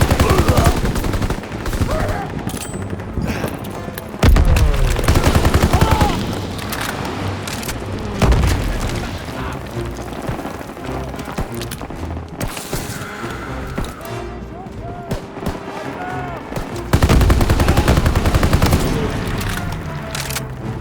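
Sustained suppressing gunfire rattles through a World War II battle in the video game Call of Duty WWII, dense machine-gun bursts with heavy booming impacts, loud and continuous, with shouted soldier voices mixed into the chaos.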